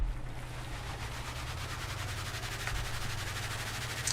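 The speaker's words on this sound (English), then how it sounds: "Let's start the engine." A boat engine idles and runs in the simulation game Stormworks: Build and Rescue, a steady low droning hum with a faint watery wash behind it, heard alone throughout.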